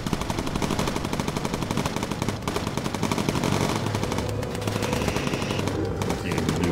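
A bomber's turret machine gun fires in long rapid bursts in the game Bomber Crew. The loud, sustained rattle is close and keeps going almost without a break, with game sounds and some talk mixed in.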